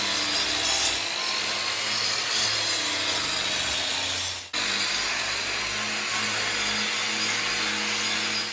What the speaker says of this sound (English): got the big grinder, big belt grinder on the bottom